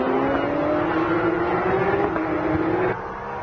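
Porsche Carrera Cup race cars at Fuji roar past at full throttle, a loud, steady engine drone with rising gear pitches that drops off abruptly near the end.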